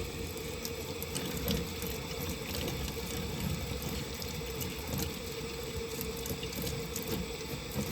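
Running water splashes steadily, up close but quiet, rinsing soap off a household fan blade, a continuous wet spatter with faint clinks and no voices.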